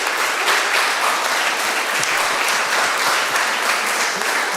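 Audience applause for readers at a literary reading at Et al. etc., steady dense clapping filling the room throughout, no voices over it.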